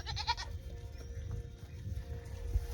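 A pregnant black goat gives a brief, wavering bleat at the start, fairly faint, followed by steady low background rumble from the surroundings.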